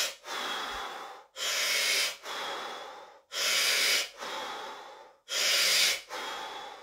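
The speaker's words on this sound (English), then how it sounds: "the rhythmic breathing at the end" Rhythmic qigong breathing, with long audible breaths in and out alternating in a slow, even cycle, each separated by a brief pause, close and clear with no talk.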